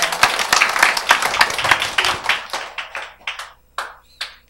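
Audience clapping at a talk event, a brisk burst of many hands that thins out into a few scattered, separate claps near the end, fairly close.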